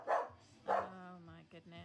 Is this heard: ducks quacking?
no